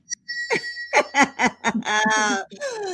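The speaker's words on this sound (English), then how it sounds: "Let me ring the bell for you, child." A small bell rings briefly at the start, then bright ringing tones linger under a run of rhythmic laughter or voiced chuckling.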